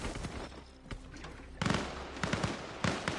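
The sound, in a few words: gunshots nearby in Arma Reforger video game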